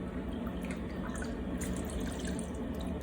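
Braising liquid from pork shanks ladled into a large strainer makes a steady, soft trickle and drip of liquid throughout, close and fairly quiet, with no talking.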